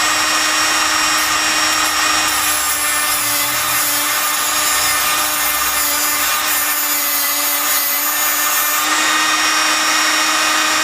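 An HTP America tungsten sharpener grinds a welding electrode tip to a point, a steady high whine with broadband hiss that holds loud and continuous throughout, its pitch dipping slightly at moments as the electrode is rotated.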